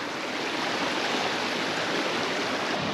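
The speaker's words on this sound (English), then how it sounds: "It's a very nice waterfall." A steady, full rushing roar of falling water at Ciucaș Waterfall in Romania's mountains, constant and close, with no voices over it.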